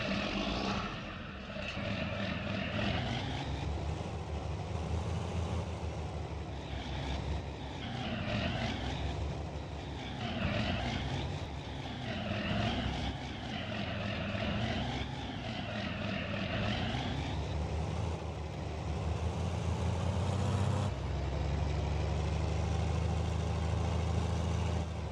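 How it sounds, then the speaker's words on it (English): Steady drone of a tractor engine in Farming Simulator 19, running continuously for the whole stretch with a slowly wavering pitch, loud and close with no talking. "There's the tractor right there."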